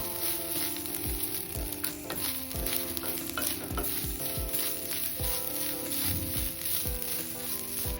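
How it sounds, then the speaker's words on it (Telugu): Something sizzles steadily as it fries in a pan until reddish while making a Churma Laddu, with a constant hiss and repeated scraping stirs at an even pace, close by and with no talking. "ఎర్రగా వేపేసుకోవాలి."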